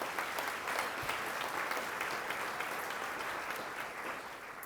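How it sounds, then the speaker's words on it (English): A room of attendees at a city's State of the City address applauds steadily for several seconds, a moderately distant, even wash of clapping that tapers slightly near the end. "Let's give them a round of applause."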